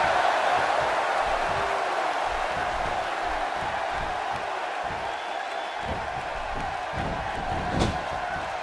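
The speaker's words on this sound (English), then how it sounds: "by the sound of this crowd, I think they're getting what they wanted" Steady roar of an arena crowd at a simulated WWE No Mercy 2016 match between Jack Swagger and Baron Corbin in Sacramento, a dense continuous wash of cheering with faint scattered whoops and one brief louder burst near the end.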